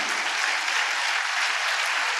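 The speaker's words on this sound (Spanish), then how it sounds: "Dele un fuerte aplauso al Rey." Steady, dense applause from a church congregation, continuous and fairly loud throughout with no pauses.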